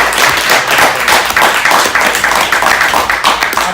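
Loud, dense applause from an audience at a panel discussion honors a panel member, with many hands clapping continuously and close. No talk is heard.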